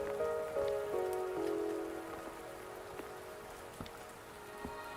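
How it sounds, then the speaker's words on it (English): Rain falling in the video game Wuthering Waves, a soft continuous patter with occasional sharper drop ticks, faint and steady, with a sustained musical tone sitting over it early on. "Are you trapped here by the rain?"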